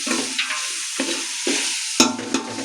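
Ingredients frying in a pan get stirred with a utensil, giving a steady sizzle broken by several sharp scraping strokes, the loudest about two-thirds of the way through.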